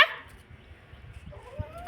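A dog gives a single short bark at the start, followed by a faint whimpering tone near the end, outdoors and somewhat distant.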